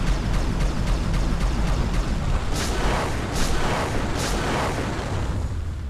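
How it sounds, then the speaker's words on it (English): Mech weapon fire in MechAssault hitting the ground: a steady run of heavy blasts and rumbling impacts, loud and dense, with a few sharper bursts standing out later. "See, you can fire and see it's hitting the ground."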